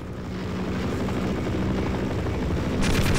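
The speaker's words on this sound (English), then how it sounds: "Helicopter." Helicopter in the video game Half-Life: Source, a steady rotor thrum and engine drone hovering at moderate volume, with a brief brighter burst near the end.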